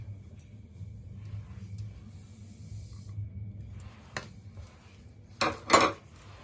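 A spoon stirs semolina into palm fruit pulp and jaggery in a bowl, giving soft scraping under a low background hum, then a few sharp metallic clinks near the end.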